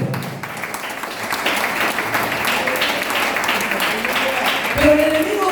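Church congregation applauding during a Spanish-language sermon, a sustained thick burst of clapping with voices and cheers mixed in, swelling slightly toward the end.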